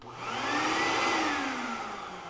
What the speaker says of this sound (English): my little shop vac there, you can see